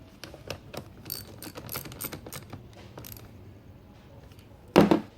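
A positive battery cable terminal is tightened on a vehicle with quick, irregular clicking ratchet strokes up close, then a single louder metallic clunk near the end.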